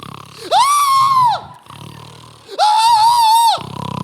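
A voice does two long, loud imitated bursts, each a rasping snore that swells into a drawn-out scream, separated by a short pause.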